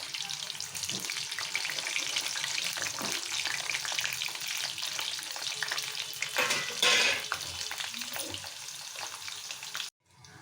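Whole Indian gooseberries (amla) hiss and sizzle as they fry in oil for a pickle, a dense, steady crackle close by with a brief stirring surge before it cuts off.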